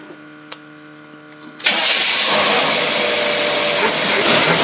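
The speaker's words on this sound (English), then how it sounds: "it looks like it's gonna, run as long as the gas is in there that we squirted it." A boat's marine engine coughs to life on gas squirted into it and keeps running fast, lean and rough, loud and steady after a brief quiet lead-in.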